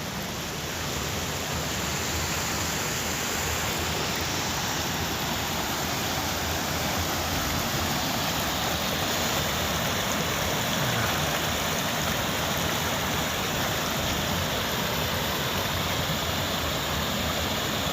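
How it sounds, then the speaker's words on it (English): A waterfall in the Elliðaárdalur valley roars as a constant, dense broadband rush, loud and unbroken from start to finish with no voices. "I hope you hear the sound of the waterfall."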